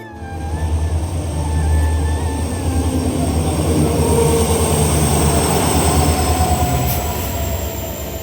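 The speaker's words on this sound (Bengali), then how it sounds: "এদিকে তো ট্রেন এসে গেছে, দেখলেই তো" A passenger train pulls into a station platform, its heavy, steady rumble and clatter of wheels continuous throughout, with faint squealing brake or wheel tones and distant hums carried over the roar; no one speaks.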